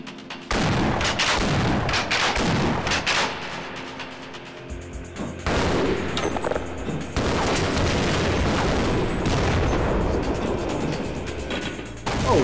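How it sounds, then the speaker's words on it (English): Shotgun blasts and gunfire from combat in the Half-Life first-person shooter, loud and dense, with repeated sharp booms and mechanical clatter running nearly the whole time over a busy, noisy game soundscape. "Let's go with the shotgun."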